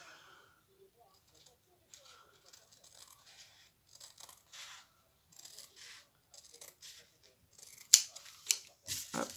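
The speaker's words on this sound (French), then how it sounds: "Je vais découper une bande." Scissors snip through a strip of material in a series of short, crisp cuts, sparse at first and then quicker and louder toward the end, heard up close.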